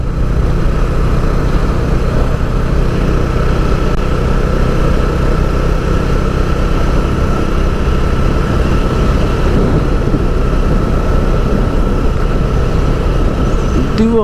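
A Bajaj Dominar 400 motorcycle ridden at night along a city riverside road, its steady engine drone and wind rush continuous and loud throughout with no break.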